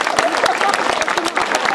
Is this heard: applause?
yes